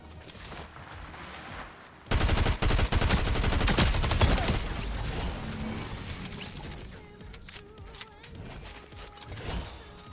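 Gunfire in the video game Fortnite: a loud burst of rapid shots begins after a quiet opening, followed by a dense clatter and scattered fainter shots and impacts fading over the remaining seconds.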